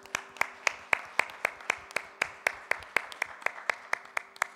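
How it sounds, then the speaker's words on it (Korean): A church congregation claps together in a steady, even rhythm, with a quick run of sharp, regular claps that sound fairly soft and somewhat distant. "하나님께 영광의 박수 올려드리겠습니다."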